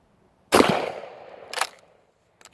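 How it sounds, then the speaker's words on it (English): A single sharp, loud blast from a lightweight Charles Daly 20 gauge pump shotgun fired at an outdoor target with high brass ammunition, followed by a quick echo and a faint distant report. "See what it feels like when you shoot it."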